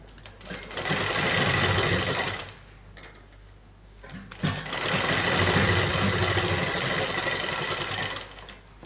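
Electric sewing machine stitching fabric for a back neckline, two steady bursts of close whirring, each running about two seconds with a quiet pause between them, and no talk.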